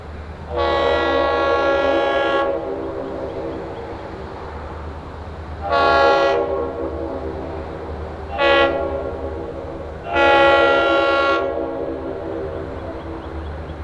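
Great Smoky Mountains Railroad steam locomotive 1702 sounds its horn in four loud blasts, long then two medium then a short one, over a steady low rumble of the passing train at a rural road crossing.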